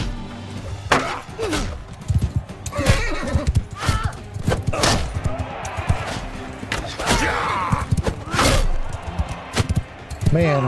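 Horses neigh and gallop in a modded Bannerlord single-player battle, loud whinnies rising over thudding hooves and the clash of combat, with a person talking over the action.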